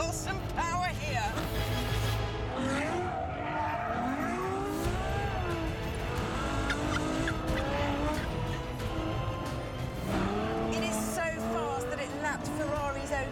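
A Ferrari F12 Berlinetta driven hard on Ferrari's Fiorano test track, its engine roaring loud and continuous with squealing tyres, while voices talk excitedly over it throughout.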